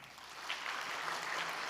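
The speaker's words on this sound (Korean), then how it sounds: "교회에서 오랫동안 헌신한 많은 분들 수고하신다고 박수 한번 드릴까요?" A church congregation claps for its elders and deaconesses during a Sunday service, a soft, steady patter of many hands that sounds distant and continues without a break.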